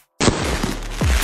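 Fireworks being lit off outdoors, a sudden loud burst followed by a dense crackling roar with a second sharp bang near the end, close and continuous.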